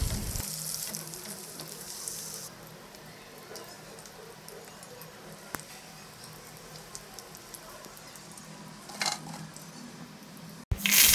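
Crispy prawn pakodi fry in hot oil with a continuous, moderate sizzle and bubbling, marked by occasional utensil clinks and a louder scrape near the end.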